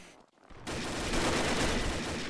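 A burst of automatic gunfire erupts in the shooter game Combat Arms after a brief quiet moment, a loud, dense rattle of rapid shots that continues steadily to the end.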